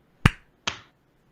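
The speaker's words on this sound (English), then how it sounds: "We're going to do a sync clap, which will be 1, 2, 3 clap" Two crisp, close hand claps about half a second apart ring out in a quiet room as a sync mark for a podcast recording, each decaying quickly into silence.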